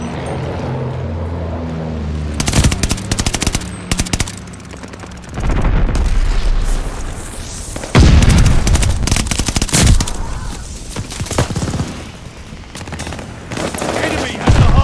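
Friendly bombing run in Call of Duty: Vanguard during a hardpoint match, heavy explosions and rattling gunfire bursting in loud clusters over several seconds, dense booming impacts overlapping one another.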